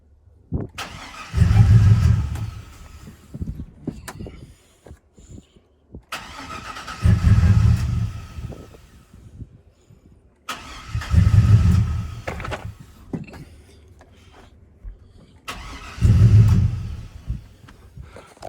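A Chevrolet Silverado engine cranks over in four separate attempts, each a loud, rhythmic whirring burst of a few seconds separated by quiet pauses, as it struggles to fire without catching.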